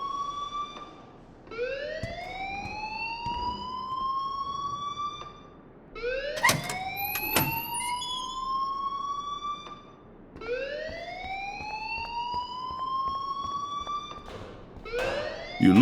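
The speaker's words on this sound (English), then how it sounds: "please turn off that alarm since that's your job" A wailing siren-like alarm rings in the video game Life is Strange Remastered, rising in repeated upward sweeps that restart every few seconds, loud and steady, with brief sharp clatters in between.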